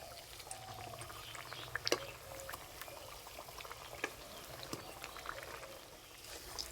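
Winter cauliflower chops in gram-flour batter fry in hot oil, giving a continuous quiet bubbling hiss with occasional sharper pops and spits, heard close with no talking.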